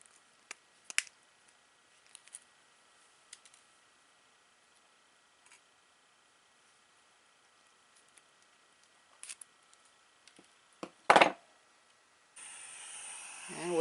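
Wire cutters trim the leads of a resistor during a worklight repair, giving a few sparse, sharp clicks and snaps in near silence, followed by a louder clunk and a steady hiss at the end.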